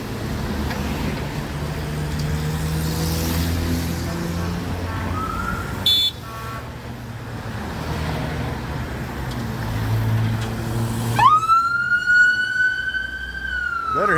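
Rumbling Montreal traffic and engines fill the scene, then near the end a loud wailing emergency vehicle siren sweeps upward and holds close by.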